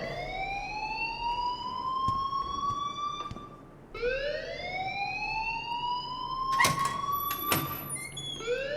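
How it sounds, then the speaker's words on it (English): A rising, wailing electronic alarm rings inside the video game Life is Strange, sweeping upward twice in long loud cycles, with a couple of sharp clanks near the end. "please turn off that alarm"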